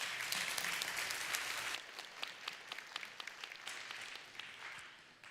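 A church congregation claps to welcome a speaker at Sunday worship. The applause is dense and loud at first, then thins after a couple of seconds into scattered, lighter claps that carry on in the room.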